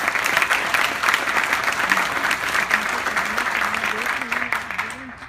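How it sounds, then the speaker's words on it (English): An audience applauds Jay with sustained clapping from a full room, steady and fairly close, while a voice carries through underneath the applause. "So let's give Jay a round of applause."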